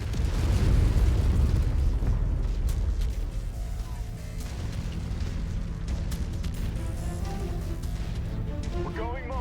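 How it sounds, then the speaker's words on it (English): Artillery barrages in the video game Mechwarrior 5 rumble as a continuous wash of deep booms and bursts, heaviest at the start and easing slightly, with sharper pops near the end; a voice speaks over the din. "That's a lot of artillery in that place."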